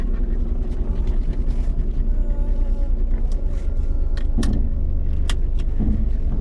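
A car on the road, heard from inside as a constant low engine and road rumble, with occasional light clicks and rattles over the drone.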